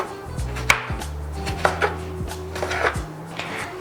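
A knife chops tomatoes for kachumbari on a cutting board, a quick series of sharp, close taps and thuds in an irregular rhythm, with no talking.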